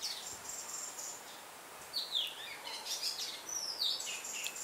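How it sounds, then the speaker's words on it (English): Birds chirp and call outdoors at dusk, scattered high whistles and tweets at moderate distance over a soft, steady background hiss, with no speech. "We've got our bird family joining us also."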